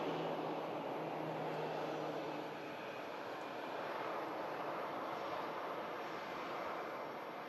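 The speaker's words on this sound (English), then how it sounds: "Brussels A319." Brussels Airbus A319 arriving at an airport, a faint, distant, steady engine rumble lasting several seconds, with no talking.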